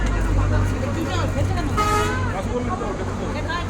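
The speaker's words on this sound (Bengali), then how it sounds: "এটা আমাদের বাস।" A tour bus idling near a roadside stop in Nepal, a low steady engine rumble with traffic noise and a short horn toot, while people talk nearby.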